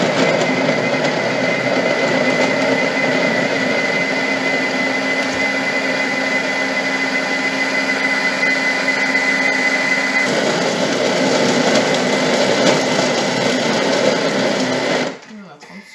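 A Thermomix running in reverse at speed 5 to mix lemon bar shortbread dough, a steady whirring motor hum lasting about fifteen seconds before winding down, with a voice speaking over it.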